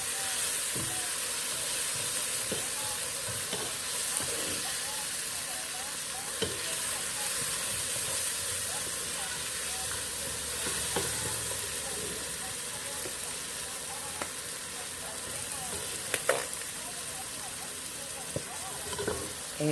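Vegetables sizzle and fry in a pot for chicken curry, a constant close hiss with scattered stirring taps and clicks, while a voice talks over it at times.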